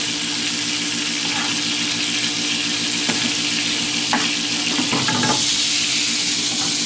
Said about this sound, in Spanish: mientras eso, revolvámoslo todo bien